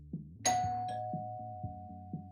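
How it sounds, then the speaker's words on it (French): A single doorbell chime rings out clearly and lingers, with a faint rhythmic thumping underneath and no voices. "Oh, la sonnette!"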